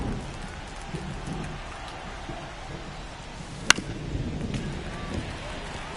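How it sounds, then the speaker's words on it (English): Steady rain falls during a Dodgers versus Pirates baseball game, a soft, continuous hiss with a single sharp crack near the middle and a muffled voice underneath. "This rain is not letting up."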